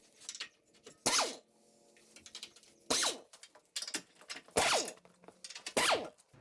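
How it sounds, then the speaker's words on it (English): A Mustang's sway bar and strut being taken apart, with several sharp metallic clanks and ratchet-like clicks spaced irregularly, close by, with quieter rattling between them. "Now I'm working on taking apart the sway bar, taking the strut out"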